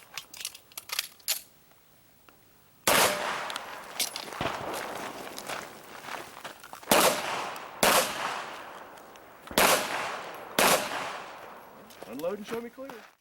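Pistol shots ring out at an IDPA shooting match at an outdoor range, several loud sharp reports spaced a second or two apart, each with a ringing tail, after a stretch of quieter clicks and shuffling.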